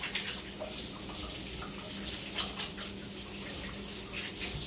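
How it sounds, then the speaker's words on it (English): Hands being washed under a running kitchen tap while cooking, a steady broadband rush of water flowing continuously and fairly close, with a brief spoken word near the start. "Wash the hands a little bit."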